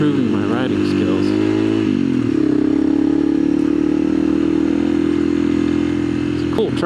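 A motorcycle engine runs steadily on a mine trail, a loud close drone with a brief dip in pitch partway through, while a rider talks over it.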